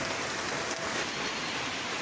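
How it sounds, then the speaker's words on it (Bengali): Rain falls steadily in a village during a sun shower, a dense, even hiss of drops on surfaces, close and unbroken, with no one speaking. "একদিকে রোদ, কিন্তু তার মধ্যে বৃষ্টি হচ্ছে"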